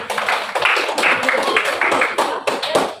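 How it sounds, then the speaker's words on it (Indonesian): Classroom students clap for a group presentation, quick uneven claps from a small group close by, mixed with chatter and voices talking over the clapping. "beri tepuk tangan untuk presentasi"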